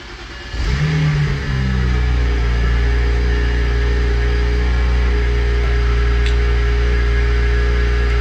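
A BMW E92 335i drift car engine cranks and catches, then settles into a steady, loud idle hum that continues unchanged.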